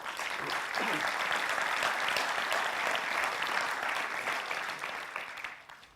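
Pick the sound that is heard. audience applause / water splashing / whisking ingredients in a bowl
audience applause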